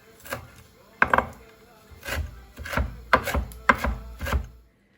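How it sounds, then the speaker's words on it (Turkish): Knife chopping parsley and dill finely on a board for a stuffed collard greens dish, a run of crisp close cuts in uneven bursts with short pauses. "maydanoz dereotunu ince ince kesiyoruz"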